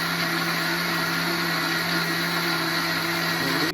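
An electric mixer whirring through a homemade ice cream mix of cream and milk powder: a loud, steady, close motor drone with a high whine, running unbroken until it stops abruptly at the end.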